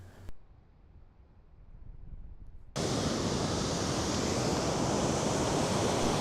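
A rushing Norwegian mountain river below a glacier surges in as a loud, steady broadband roar after a quieter start, filling the scene close by and alone.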